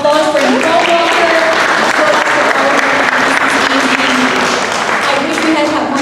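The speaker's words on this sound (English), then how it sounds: "Let's give another round of applause for Nicole Walker." Audience applause at a community event, a loud, steady round of clapping that holds throughout, with voices speaking over it now and then.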